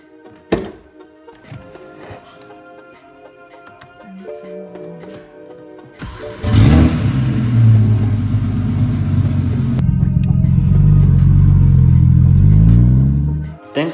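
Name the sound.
BMW E92 335xi accelerating on test drive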